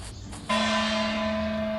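A bell rings once in the Scary Teacher video game, a bright sustained chime that rises sharply and holds with a steady ringing tone, preceded by faint low noise.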